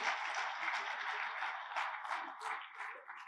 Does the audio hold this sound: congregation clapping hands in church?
yes